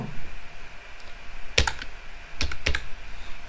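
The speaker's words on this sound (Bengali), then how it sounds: "তো ইউ লেখার জন্য আমরা এখানে ক্যাপস লক দিয়ে ইউ লিখব।" A few crisp keystrokes on a computer keyboard with caps lock on, typing a capital letter as sparse, isolated clicks over a quiet room background.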